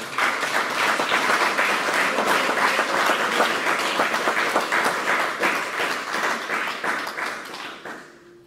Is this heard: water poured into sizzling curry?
no